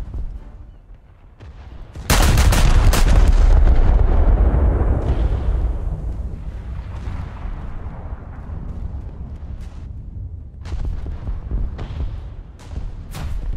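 A warship detonates in a naval video game. A sudden, massive boom hits after two seconds and rolls into a long, rumbling decay, with scattered loud gunfire cracks following.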